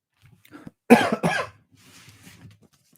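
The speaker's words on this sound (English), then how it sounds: "Still coughing, as you see." A person coughs twice in quick succession, close and sharp, with quieter throat sounds and breathing before and after.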